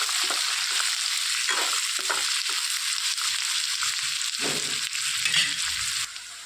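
Thinly sliced onions and curry leaves frying in a pan for a bitter gourd stir-fry, a bright continuous sizzle broken by bursts of stirring scrapes, close and fairly loud, with no speech.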